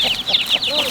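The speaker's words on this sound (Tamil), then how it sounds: "கோழி குஞ்சு போட்டிருக்கீங்க, வாங்க." A hen clucks repeatedly on a farm near her chicks, making a quick run of short, fairly close clucks in an uneven rhythm.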